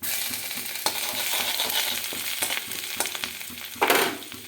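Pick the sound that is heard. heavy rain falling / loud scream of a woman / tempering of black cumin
tempering of black cumin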